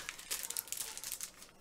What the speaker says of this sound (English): Let me get this unwrapped for you guys.